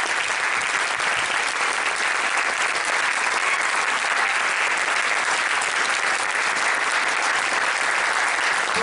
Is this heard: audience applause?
yes